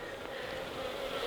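Honey bees buzz steadily around an open hive during a March inspection, a continuous droning hum of many insects close by with no talking.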